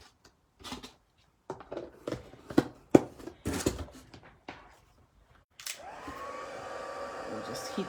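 Embossing powder on a handmade holiday card is melted with a heat tool. Scattered handling rustles and taps come first, then the tool switches on with a steady, close blowing whir that carries on to the end.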